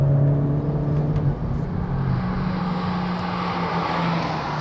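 Honda Civic Type R, a front-wheel-drive car, driving on a track, its engine a steady loud drone with shifting harmonics and a slight change in tone partway through, with no voices.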